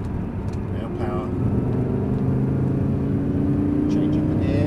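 A Lamborghini Gallardo engine rumbles and rises in pitch as it accelerates on a race track, loud and close, with some talking faintly over it.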